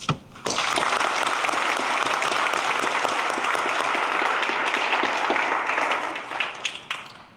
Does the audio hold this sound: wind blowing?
no